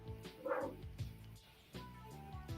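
Several dogs bark in short, loud bursts against a busy background, with a few sharp yips spread across the moment.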